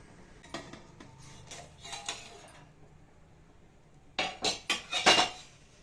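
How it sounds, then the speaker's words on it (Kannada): A plate set down over a cooked ragi roti on the stove gives scattered light clinks, then a quick run of sharper close metallic knocks and rattles near the end, over a quiet background. "ಇದನ್ನು ಪ್ಲೇಟ್ ಮುಚ್ಚಬೇಕು."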